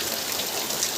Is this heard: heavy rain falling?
yes